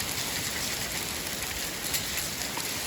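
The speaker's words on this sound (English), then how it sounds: "They said the rain was over. I guess the rain is over. It's hail." Hail falls during an ice storm, a steady dense patter of pellets striking surfaces all around, moderately loud and continuous with no voices.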